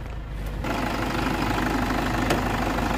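A 2013 Toyota Innova V engine running steadily, a loud continuous mechanical hum with fine rhythmic pulsing, heard close up with no voices.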